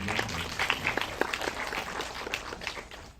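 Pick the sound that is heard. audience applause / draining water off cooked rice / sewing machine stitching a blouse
audience applause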